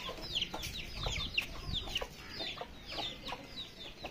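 Golden hens cluck in a caged coop, a close, steady series of short calls repeating through the whole stretch with no talking.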